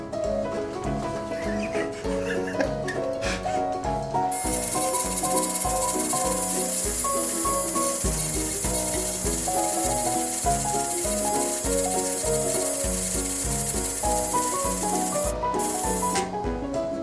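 An electric trimmer works through a thick beard on a man shaving it off, a steady, close, raspy buzz that runs almost unbroken with only slight changes as it meets the hair.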